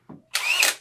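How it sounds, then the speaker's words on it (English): A DeWalt 5 amp-hour hammer drill gives a brief click, then a short, sharp high-pitched whir that runs for about half a second before spinning down, close and alone. "DeWalt hammer drill."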